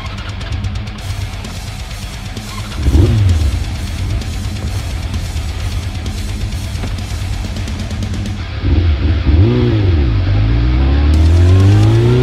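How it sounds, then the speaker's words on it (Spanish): A Honda CBR 600 F3 motorcycle engine idles loudly, then revs twice and pulls away, its pitch rising as it accelerates off toward the end. "Ahí se va mi moto."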